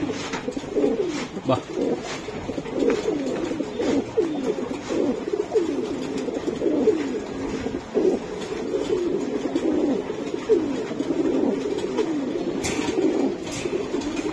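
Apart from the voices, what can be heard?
racing pigeons cooing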